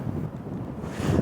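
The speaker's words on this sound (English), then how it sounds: "The wind's got up there, hasn't it? It's quite windy now." Strong gusts of wind on a Scottish island near a beach buffet the microphone with low rumbling roars that rise and fall, loud and close, with no talking.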